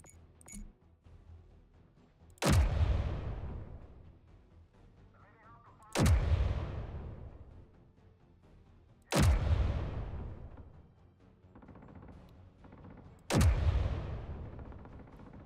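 An artillery turret in the video game Space Engineers fires four heavy booms at regular intervals of about three and a half seconds, each a loud sharp blast followed by a long rumbling decay, with no talking.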